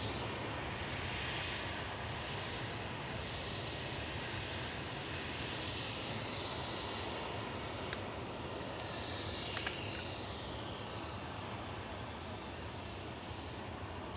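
An Airbus A380 sits after pushback at Manchester Airport, its engines giving a broad, steady jet roar that stays even and moderately distant, with a few faint sharp clicks partway through.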